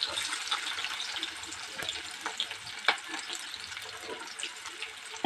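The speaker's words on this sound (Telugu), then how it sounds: "ఆయిల్ హీట్ ఎక్కిందండి, ఉల్లిగడ్డ వేసుకుంటున్నాను." Onions drop into hot oil for a chicken curry and sizzle with a steady, close crackling hiss, broken by a few sharp pops and clatters of stirring.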